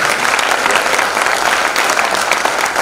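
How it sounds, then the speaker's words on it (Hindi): A large audience at a poetry gathering claps loudly and steadily for the whole stretch, a dense, even wash of applause with no pauses. "जोर से ताली बजाइए"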